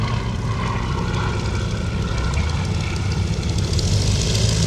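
A Fairey Swordfish biplane flying at an air show, its propeller engine giving a loud, steady, full-bodied drone with a rough rasping edge that holds throughout.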